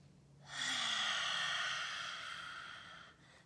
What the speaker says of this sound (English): let's take 3 cleansing breaths together, breathing in.